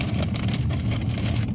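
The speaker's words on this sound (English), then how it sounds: "Excuse the noise. I gotta get my car fixed" A car engine in need of repair idles roughly close by, a steady low rumble with a rattly, uneven texture throughout.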